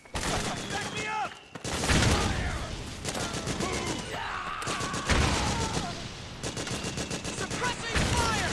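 Heavy suppressing gunfire in the video game Metal Gear Solid 4: Guns of the Patriots, with dense, sustained automatic bursts close and loud for several seconds, broken by brief pauses, while voices shout underneath.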